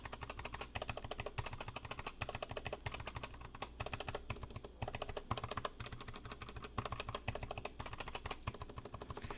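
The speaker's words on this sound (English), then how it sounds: "So it's like, what do you want your keyboard to sound like? Just pick your keycap variety." Rapid keyboard typing, a steady stream of close, clacky keystrokes in quick bursts with brief gaps, no voices.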